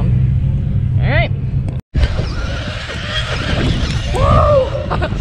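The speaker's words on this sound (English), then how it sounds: "Lots of trucks up today, so you can hear a lot of them." Off-road trucks run across smooth sand dunes, their engines rumbling and revving at a distance under steady wind-like noise, with a brief dropout partway through and people talking over the engines.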